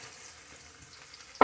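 Onions sauté in a pan with a soft, even sizzle, then a sudden louder scrape or clack of a wooden spoon at the very end.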